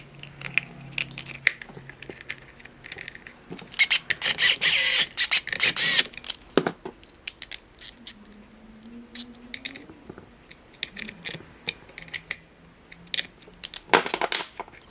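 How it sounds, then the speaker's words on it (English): Spring, cover and two screws fitted onto a Rotax Senior Max kart engine power valve, sharp metallic clicks and taps with a short loud rattling cluster and small scraping handling sounds, close and without talk. "the last thing we've got to do is install the spring and the cover and the two screws"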